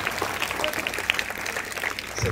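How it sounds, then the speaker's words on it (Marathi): Students clapping at a felicitation ceremony, a brief, steady patter of applause from a group, moderately loud, with voices mixed in underneath. "टाळ्या वाजवायच्या जोरदार विद्यार्थ्यांनी"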